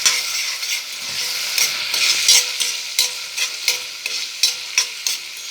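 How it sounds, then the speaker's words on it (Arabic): Onions fry in oil with tomato juice for Egyptian koshari, producing a bright, constant sizzle broken by regular, rhythmic scrapes of a stirring utensil. "البصل بتاعنا اهو، انا زودت حبة زيت تاني."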